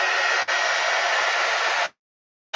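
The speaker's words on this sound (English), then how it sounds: "if you can hear my dryer, I'm sorry" A handheld hair dryer blows on wet oxide ink on paper, a loud steady whooshing hiss with a brief dip early, then abruptly switching off into silence.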